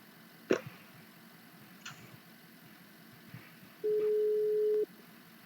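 A single steady electronic phone ringing tone sounds in a GTA roleplay game, lasting about a second after a few faint ticks and clicks, clear and alone over a quiet background.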